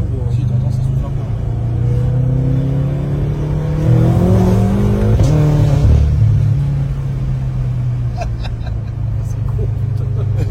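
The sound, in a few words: turbocharged car engine revving with turbo blowing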